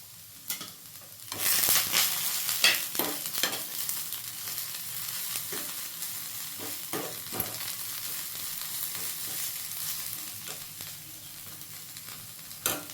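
Tamarind, garlic and salt sautéing in a pan, a steady close sizzle with occasional scrapes and knocks of stirring, loud at first then settling to a continuous fry.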